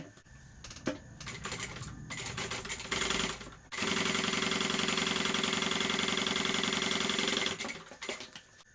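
Sewing machine stitching a backpack pocket lining, short bursts of stitching at first, then one long, loud, steady run of rapid stitches before it slows and stops.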